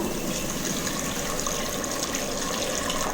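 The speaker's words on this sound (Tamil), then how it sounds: "மூணு கப் அளவுக்கு தண்ணியான தேங்காய் பால் சேர்த்துக்கலாங்க" Thin coconut milk, strained from ground coconut, pours into a pot while dal khichdi cooks, a continuous gushing liquid stream that stays loud and steady throughout, with no talking.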